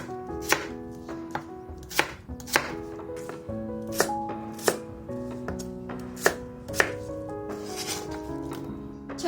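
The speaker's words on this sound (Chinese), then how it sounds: "萝卜切片之后，也改刀切成小块。" Radish slices being cut into small pieces with a knife on a chopping board, close and crisp knife strikes in an uneven rhythm, roughly a dozen chops, with background music underneath.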